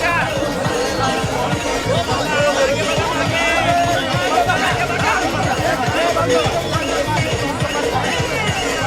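A dense crowd packed onto a stage at a women's temple pilgrimage launch event, with a steady, loud babble of many overlapping voices close by.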